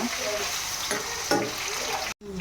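Capsicum and peas fry together in a pan for vangibath, giving a steady close sizzle with a couple of brief stirring scrapes, cut by a short drop-out near the end.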